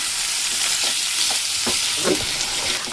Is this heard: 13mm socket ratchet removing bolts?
no